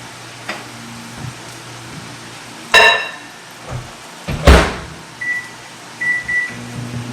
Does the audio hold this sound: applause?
no